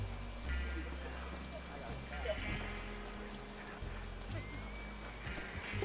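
Horse hooves clop in the video game Red Dead Redemption 2. The steady clip-clop runs under a game soundtrack and over people talking.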